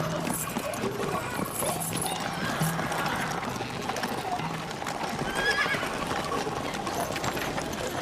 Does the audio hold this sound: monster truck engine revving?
no